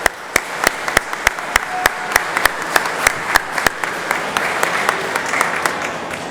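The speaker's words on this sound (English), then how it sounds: "Round of applause, please." Audience at an annual meeting of the Lawrence Partnership breaks into applause, a loud sharp clap standing out at a steady beat above a thinner crowd patter, continuing without letup.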